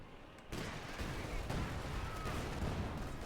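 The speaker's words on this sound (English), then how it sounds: "We got the howitzer firing away there, likely looking to silence and support them." Pack howitzer artillery firing in Company of Heroes 2, a World War II strategy game, heard as a dense, steady roar of distant battle with several muffled booms rolling under continuous battlefield noise.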